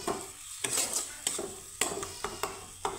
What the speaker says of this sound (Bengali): তো মশলাটা কিন্তু আমার মোটামুটি ভাজা হয়ে গেছে।